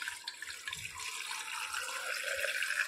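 Cooled water is poured over Indian gooseberries in a container, a continuous splashing trickle of moderate loudness heard on its own without talk.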